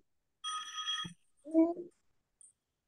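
A telephone rings with a brief electronic trill, followed by a short spoken voice.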